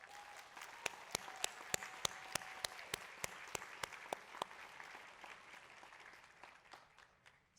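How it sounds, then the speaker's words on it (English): An audience at the 2021 Cooper Medical School of Rowan commencement ceremony applauds steadily, a dense wash of clapping with a few sharp, close claps standing out before it fades away. "Applaud them as you stand here ready to graduate."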